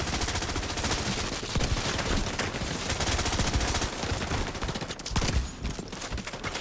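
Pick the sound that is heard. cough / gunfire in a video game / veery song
gunfire in a video game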